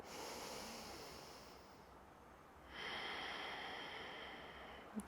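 Two slow, deep breaths drawn in and released during a relaxation exercise, each a long airy rush, close and soft, with a short pause between them.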